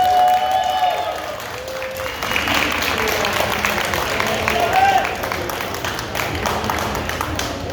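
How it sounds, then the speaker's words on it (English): Applause for the volunteer of the year at the Aquashella aquarium show's shrimp contest in Dallas, a steady wash of clapping from a crowd that swells midway and holds to the end, with some talk and cheering mixed in. "So a big round of applause for Shelby Brown, Volunteer of the Year."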